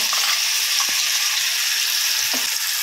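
Freshly ground chutney added to a hot pan with curry leaves sizzles and fries in a steady, loud hiss, with a couple of faint stirring knocks against the pan.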